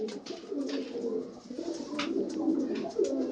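Flying pigeons of a Madrasi breed cooing close by, soft repeated low burbling coos overlapping one another, with faint chirps and rustles around them.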